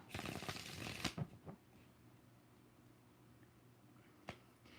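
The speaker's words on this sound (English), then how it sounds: "2 more shuffles." Tarot cards shuffled in a few quick riffling bursts near the start, followed by a quieter stretch and one more sharp card snap, close and fairly soft.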